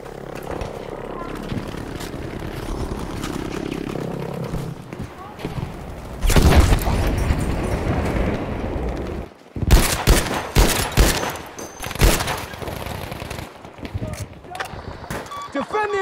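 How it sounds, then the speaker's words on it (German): JB-2 rocket airstrike in Battlefield V: loud blasts and rumbling explosions burst in around the middle and continue in clustered hits, mixed with gunfire and in-game voices. "We now require a JB-2 airstrike at this location."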